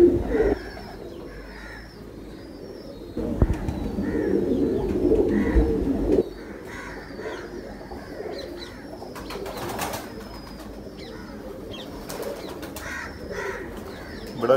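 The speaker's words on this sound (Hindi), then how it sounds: "बड़ा शानदार कबूतर है जी" Ferozpuri breed pigeons coo repeatedly in soft, throaty phrases amid rustling and occasional wing flaps, with faint background noise and no clear talking.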